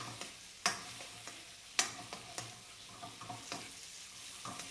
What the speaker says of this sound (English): Garlic and ginger here. Saute it for like a minute as well, just until it's fragrant.